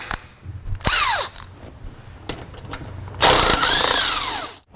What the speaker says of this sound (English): we're going to remove our two 10mm bolts